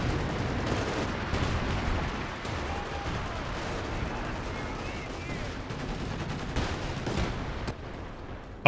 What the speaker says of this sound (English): There's just one MG42 locking it down.